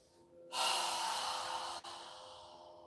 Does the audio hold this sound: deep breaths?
yes